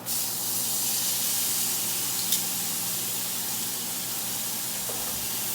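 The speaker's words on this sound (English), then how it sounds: "Check the sear on our steak" A T-bone steak searing in a hot iron skillet gives off a steady, bright sizzle and hiss that carries on evenly throughout, with a small clink partway through and no talking.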